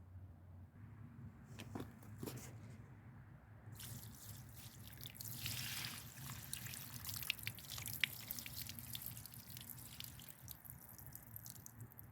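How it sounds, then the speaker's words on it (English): A potted rosemary plant is watered outdoors, soft pouring and trickling into the soil with a few drips, faint and close against quiet surroundings, with no talking. "I'm just watering it thoroughly."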